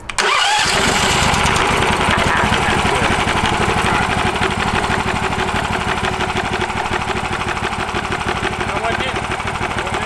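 A cheap 18HP engine mounted on a go-kart fires up and keeps running, a loud, steady mid-pitched rumble with a fast regular pulse from start to finish.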